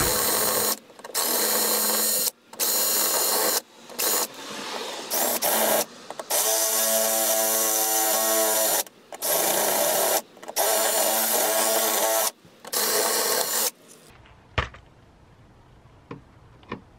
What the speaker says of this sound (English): I'm gonna just drill the rest of them out.